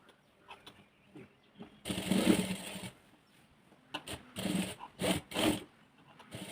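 A sewing machine runs a line of stitching along the edge of blouse fabric in short bursts of whirring, separated by quiet gaps with light handling noises.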